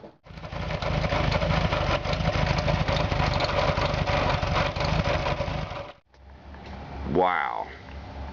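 A car engine idles loudly and steadily with a suspected pulley or belt fault near the fan housing, its rough, even drone running close by for about six seconds before cutting off abruptly, followed by quieter sounds.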